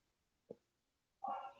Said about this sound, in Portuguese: é cachorro latindo